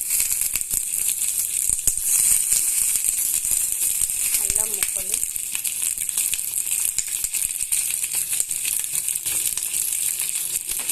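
Green chillies and coconut pieces frying in a pan of oil give a steady, dense crackling sizzle that holds at an even level throughout, close up with no voice.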